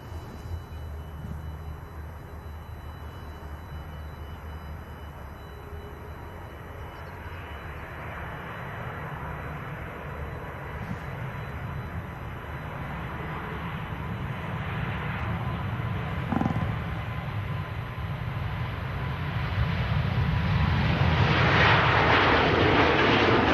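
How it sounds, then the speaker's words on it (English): An Air France Airbus A320 departs Manchester Airport, its engine roar building steadily from a distant rumble to a louder, broadband jet noise as it climbs away, with no talk over it. "Here we go, Air France. A320, departing back to Charles de Gaulle."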